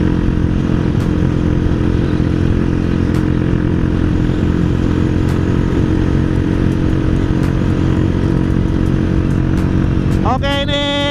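A Honda CB motorcycle rides with the throttle held fairly open, its engine giving a loud, continuous, close-up roar with wind rush, before a brief whining tone rises near the end.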